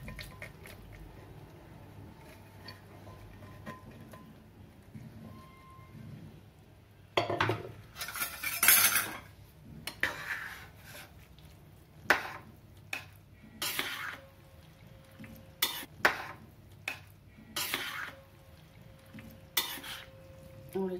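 Mixed whole lentil dal with spices being stirred in a pot, a spoon scraping and clinking against metal in irregular bursts, with a soft simmering bubble underneath and quieter gaps early on.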